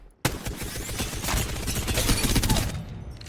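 A Devotion light machine gun fires in Apex Legends as a continuous rapid stream of shots, loud and dense throughout, beginning abruptly and tapering slightly at the end, with no talking.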